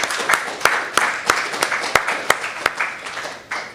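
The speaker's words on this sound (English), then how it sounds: "we should maybe give a quick round of applause to all the speakers from the day" A small conference audience at a programming event gives a brief round of applause for the day's speakers, with sparse, distinct individual claps ringing out at a fairly steady pace, close by.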